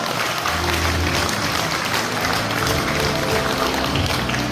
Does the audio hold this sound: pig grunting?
no